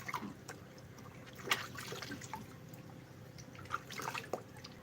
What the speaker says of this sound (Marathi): कॅमेरावर पाणी पडतोय